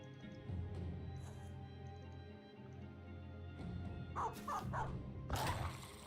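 Dog barking in the video game Battle Brothers, a few short yips and barks in quick bursts near the end, over steady game background sound.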